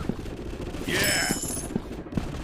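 Gunfire in a first-person shooter game sounds as a few sharp, regularly spaced shots, joined midway by a brief louder burst, all fairly quiet under the game's background noise.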